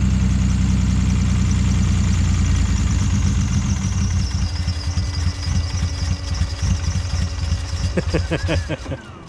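A Vauxhall car engine, one of a Vectra GSI, Vectra SRI, Zafira GSI or Omega 3.0 V6 group, runs rough and misfires with uneven low pulsing close by, settling toward a steadier idle with some clatter near the end.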